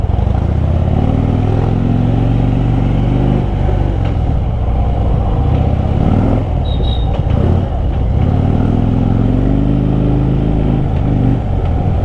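A Harley-Davidson Dyna Fat Bob motorcycle rides through a hill-village market in Uttarakhand, its heavy V-twin engine loud and close throughout, a steady deep rumble with slight rises in revs and passing road clatter.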